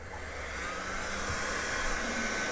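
Hair dryer blowing over a repaired ceramic piece to dry it before glazing, a steady close whirring airflow with no speech.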